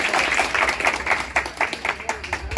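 Loud clapping from an audience at a Babasaheb Ambedkar birth anniversary gathering in India, dense rapid claps swelling and fading across the crowd with some voices mixed in.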